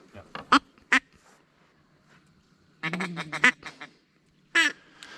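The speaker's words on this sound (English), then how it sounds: "That's birds. That's ducks. Oh, those were teal." Teal ducks call during a Minnesota teal hunt, with bursts of quacking close by in short clusters and quiet gaps between them, and people talk softly nearby.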